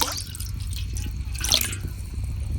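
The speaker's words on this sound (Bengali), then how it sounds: "এখন এইদিকে আবার কড়াই বসাই দিছি, দিয়ে দিতেছি পানি" Water is poured into a wok on the stove to heat for boiling mung dal, a steady splashing and dripping pour that runs throughout, fairly close and with no talking.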